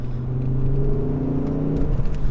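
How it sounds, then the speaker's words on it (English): Drony, rumbling five-cylinder engine and exhaust note from a Mk2 Ford Focus ST running with its standard OEM-look exhaust, a steady low hum with layered tones heard up close for a couple of seconds. "5-cylinder sound. It's a little bit drony"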